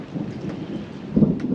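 Thunder rumbles low and close during a storm over Pine Island Sound, with a swell of rolling energy near the end and steady rain noise underneath, no voices.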